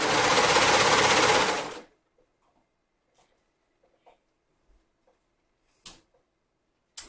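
A sewing machine stitches elastic onto swim bottoms in a fast, loud, close burst of rapid needle chatter that stops abruptly after about two seconds, followed by near silence with a few faint clicks and taps.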